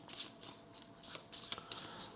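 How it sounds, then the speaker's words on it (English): A deck of cards for the Kinfire Delve board game is shuffled by hand, several quick riffling bursts close up with brief pauses between them. "we'll shuffle the exhaustion deck"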